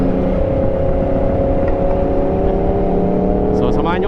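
A Yamaha MT10 motorcycle engine and exhaust hold a loud, steady, low drone close by, with a slight rise in pitch throughout.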